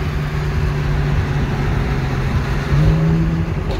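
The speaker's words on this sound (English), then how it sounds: "His turbo is so obnoxious." Steady droning engine and road noise heard from inside a BMW 335is while another turbocharged car follows close behind, a loud continuous low rumble with a slight rise in pitch toward the end.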